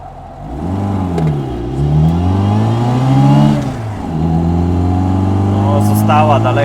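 A Reliant Rialto GLS three-wheeler racing, its mid-pitched engine revving up and down in repeated surges, close and loud, with a brief high whine near the end.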